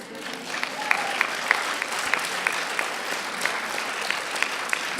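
Dense, steady audience applause fills a lecture hall at a faith-based talk, with many hands clapping continuously and a few sharper individual claps standing out.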